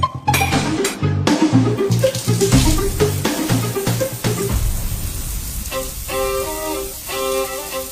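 Water gushes from a tap someone is fixing, a splashing stream into a basin with clattering knocks at first, then a steadier flow joined by faint music-like tones near the end.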